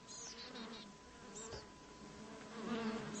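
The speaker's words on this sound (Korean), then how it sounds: "꿀벌은 부리를 가볍게 날아다니며 붕붕거렸다" Bees buzzing as they fly lightly among sunlit green leaves in a summer garden, a steady continuous insect drone with no talk.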